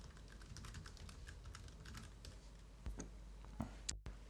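Typing on a computer keyboard: quick, soft key clicks in an irregular run, close and quiet, ending in a few sharper taps.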